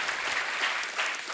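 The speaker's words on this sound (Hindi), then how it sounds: "आपने ताली क्यों बजाई?" Studio audience at a Hindi TV comedy show breaks into steady, fairly loud applause, a dense wash of many hands clapping continuously with no voices on top.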